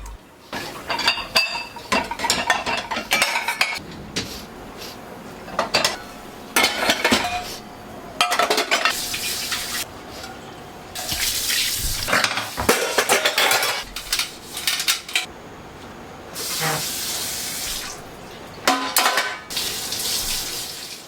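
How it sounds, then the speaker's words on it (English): Dishes are washed by hand at a kitchen sink after dinner: running tap water comes and goes in bursts, with clinking plates, pots and cutlery, and no talking. "After dinner, I put the dishes in the dishwasher and hand wash the things that's needed."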